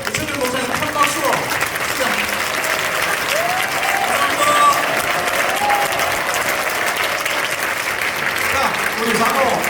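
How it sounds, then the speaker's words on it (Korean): Sustained applause from a church general assembly crowd standing to honor a pastor, a broad continuous clapping wash with murmuring voices and talk underneath. "일어나서 우리 유승길 목사님 큰 박수로"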